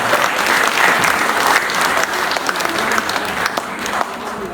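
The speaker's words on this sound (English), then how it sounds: "Please give her a round of applause." An audience at a book launch claps in a sustained, close round of applause, many hands overlapping evenly throughout.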